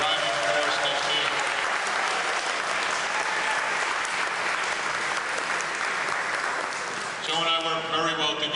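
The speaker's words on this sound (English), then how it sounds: "the guy who really deserves a big round of applause is our former Mayor, Joe Tedeschi" Audience applause in a community hall for a former mayor, steady dense clapping that fills the room for about seven seconds, then thins briefly before a final burst as a voice starts up.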